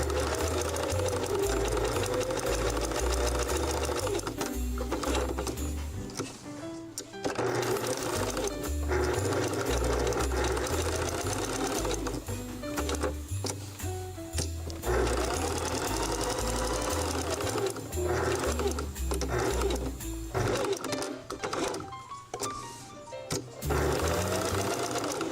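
A home sewing machine runs steadily through fabric, its needle chattering in a fast, even rhythm with a few brief pauses and restarts; close and loud, no talking.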